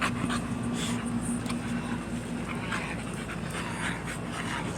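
A seven-month-old puppy pants heavily and continuously, close to the microphone, with rapid rhythmic breaths over outdoor background noise.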